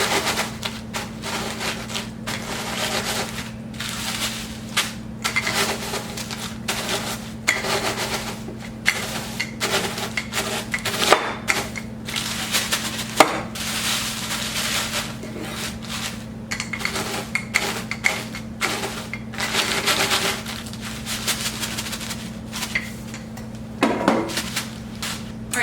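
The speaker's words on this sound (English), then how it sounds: "There are lots of ways that you can crush your graham crackers." Graham crackers crushed by hand in a home kitchen, a long run of dry, rapid crackling and crunching in irregular bursts over a faint steady hum.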